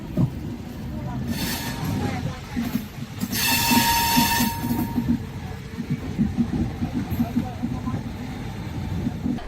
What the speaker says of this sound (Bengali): হল্ট দিয়ে কিন্তু রায়পুর জংশন থেকে কিন্তু ছেড়ে দিচ্ছে ট্রেন আমাদের।